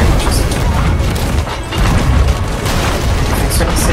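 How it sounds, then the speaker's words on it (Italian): Ship cannons in the video game Sea of Thieves boom heavily in a dense, continuous barrage, loud and close, with voices faintly under the blasts. "E poi tutti fuoco con i cannoni di destra."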